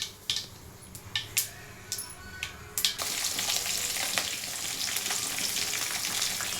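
Mustard seeds spluttering in hot oil for a tempering, first scattered sharp pops and crackles, then a dense continuous sizzle with crackling bursts, close by.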